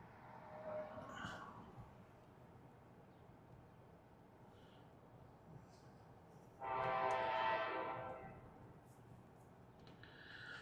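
A train horn blows once at moderate distance over a faint rumbling background, with brief quieter sounds before it.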